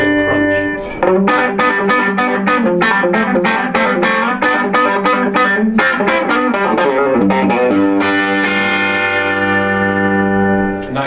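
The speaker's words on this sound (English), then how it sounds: "that gives you a nice crunchy lead tone for, say, a country solo" Crunchy, overdriven electric lead from a Suhr S4 guitar on the bridge pickup through an Egnater Tweaker amp, playing a fast country-style solo with dense runs of picked notes, ending on a ringing held chord.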